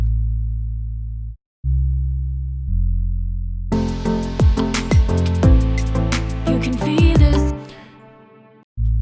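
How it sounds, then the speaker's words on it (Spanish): Synth bass line from a song verse in a mixing lesson: a clean, sine-like low tone holding sustained notes that step between pitches, later joined by brighter plucked and chirping synth layers. It plays loud and steady with no talking. "también hay otro bajo en otra parte de la canción"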